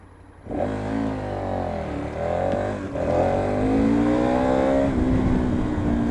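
A 2015 KTM 1290 Super Adventure motorcycle accelerates hard enough to lift its front wheel, its engine note climbing loud and close through the gears, with one brief dip at a shift.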